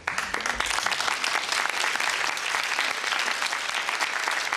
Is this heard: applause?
yes